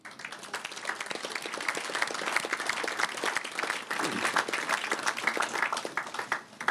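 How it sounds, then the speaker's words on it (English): An audience at a United Nations Secretary-General's luncheon applauds with dense, steady clapping that holds at a strong level for several seconds. "Let us give them a big applause."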